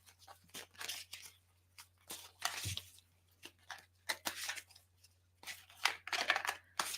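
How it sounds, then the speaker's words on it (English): Papery riffling and soft card slaps come in short irregular bursts as a tarot deck is shuffled by hand, close and fairly quiet, with no talking. "So while I'm shuffling"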